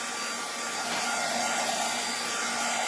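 A heat tool drying a piece of altered-art craft work, blowing with a steady, loud, close whooshing whine that holds unbroken throughout, with no talking.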